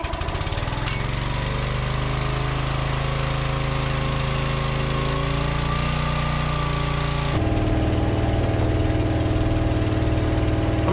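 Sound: air compressor running

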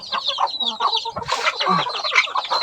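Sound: bantam chicken clucking

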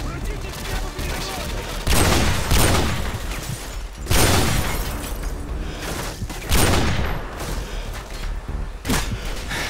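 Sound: gunfire in the Call of Duty Modern Warfare 2 video game

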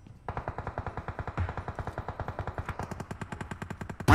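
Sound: gunfire in PUBG Mobile video game

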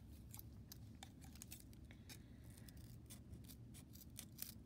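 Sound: scissors trimming a terrarium insert

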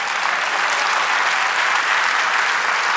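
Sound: church congregation applauding

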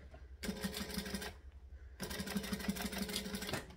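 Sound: sewing machine stitching over a tag

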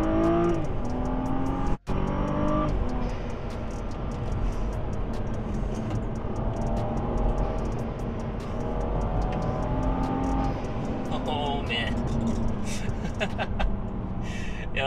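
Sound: BMW 435i on KW V1 coilovers driving on road

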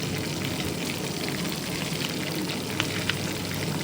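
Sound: fish frying in hot oil

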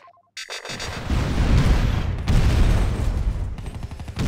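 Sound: gunfire in a video game

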